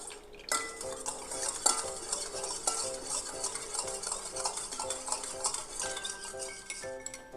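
Homemade sage and bergamot deodorant mixture being stirred in a container, a steady scraping and clinking of a utensil against the vessel with soft rhythmic strokes up close.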